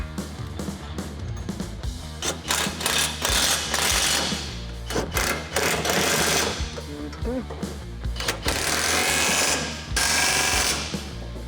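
Big bolts are driven into a gooseneck hitch on an F-250 truck with a power impact tool, producing repeated loud rattling bursts of uneven length separated by short pauses, near and clear.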